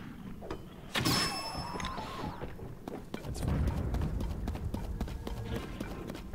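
Horse hooves clip-clopping in Tears of the Kingdom, a steady run of sharp, close hoof strikes over ongoing game ambience, with a louder rustling burst near the start and a person speaking faintly in the background.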